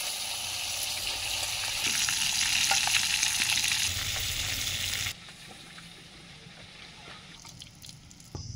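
Fish sizzling and frying in its own fish oil in a village kitchen pan, a loud steady crackle that drops to a quieter simmering hiss partway through, with no voices.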